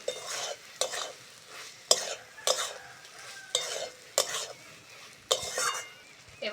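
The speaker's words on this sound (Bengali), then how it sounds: "চিংড়িটা দিয়ে আবারও ভালো করে কষে নেব।" Prawns being stirred and fried in a pan for a Bengali prawn and potato curry, with repeated spatula scrapes and clinks against the metal over a soft, steady sizzle, close up.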